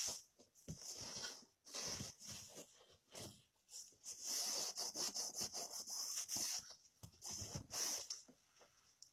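A lint roller rolls back and forth over a dusty lampshade, making rhythmic rasping, sticky rubbing strokes in short bursts, close and moderately loud, with brief pauses between passes.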